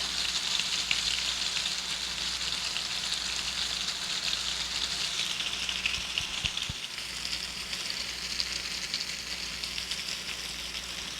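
Pork medallions pan frying, seasoned, with a steady, dense sizzle that holds evenly throughout at a moderate level, with no voices.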